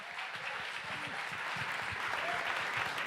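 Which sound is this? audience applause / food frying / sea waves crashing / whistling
audience applause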